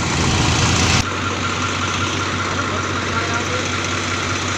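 Tractor engine idling close by, a steady loud low rumble with a brief heavier burst at the start before it settles into an even drone.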